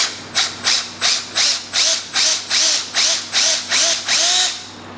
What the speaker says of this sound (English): we're actually going to drill these out. I already got one drilled out. Just take a drill bit